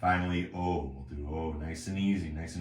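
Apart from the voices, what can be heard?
No everyday noise stands out behind the speech.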